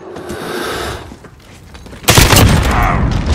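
Grenade explosions and gunfire in a video game erupt with a loud sudden boom partway through, followed by sustained heavy blasts and rumbling after a quieter stretch of distant gunfire.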